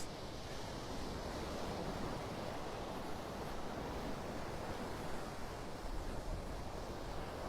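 Ocean waves and wind at Delnor-Wiggins beach on a stormy morning, a faint, continuous wash of surf and breeze with no voices.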